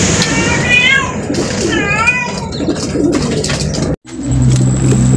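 Birds calling close by, warbling chirps in short bursts, with voices talking alongside and a brief cut near the end.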